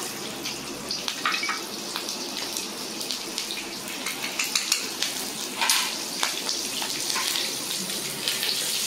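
Black cumin seeds and slit green chillies fry in hot oil with a steady, close sizzle and irregular crackling pops throughout, no talking over it.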